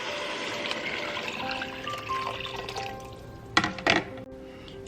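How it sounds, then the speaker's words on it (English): Water pours into a pot of red beans with ham hocks and smoked sausage, a sustained trickling rush, followed by a couple of sharp close clanks near the end. "Now add in 7 cups of water."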